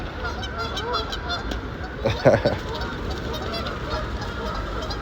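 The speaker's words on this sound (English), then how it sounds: "You hear the geese." Geese honk in a brief noisy squabble amid a steady outdoor hum, a burst of overlapping calls rising in the middle then settling.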